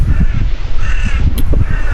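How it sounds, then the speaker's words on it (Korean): Crows cawing outdoors in a windy Polish city, a few calls standing out over heavy low wind rumble and buffeting. "까마귀 소리밖에 안 나."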